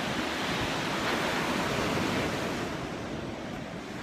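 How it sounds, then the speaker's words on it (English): Waves of the vast Pacific Ocean wash in as a steady, loud broadband surf roar, easing slightly toward the end, with no voices. "we celebrate this moment, this ocean, this vast Pacific Ocean"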